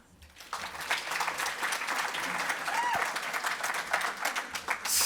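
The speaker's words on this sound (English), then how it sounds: "let's give them a big clap" An audience at a school innovation showcase panel claps in a dense, steady round of applause after a brief quiet start, with a voice faintly heard beneath.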